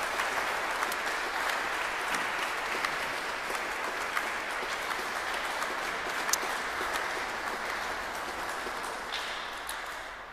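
An audience at an organ recital applauds in welcome, a sustained, even wash of many hands clapping from a moderate distance that slowly tapers toward the end.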